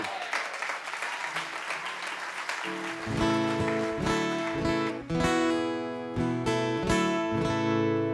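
A crowd claps for a couple of seconds before a band starts playing, the applause fading under the music.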